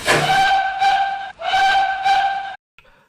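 A steam locomotive whistle sounds twice in long, loud, harmonic blasts, the second slightly longer, then cuts off into near silence.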